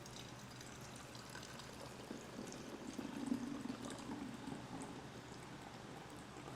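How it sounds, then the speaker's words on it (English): White vinegar pours into the solution tank of a home carpet cleaner, a soft steady liquid trickle that swells slightly midway, heard close with a faint background hum and no talking. "fill the rest of this cleanser thing with simple white vinegar"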